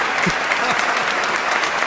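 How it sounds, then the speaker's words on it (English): Audience applause in a hall, a continuous, fairly loud and dense wash of clapping, with a faint voice briefly audible underneath. "give them a round of applause"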